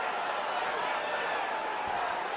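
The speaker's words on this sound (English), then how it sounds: "big pop from the crowd as they get back to their feet" UFC arena crowd at a Fight Night event, a steady, broad roar of cheering from a large audience, distant and sustained with no single standout voice.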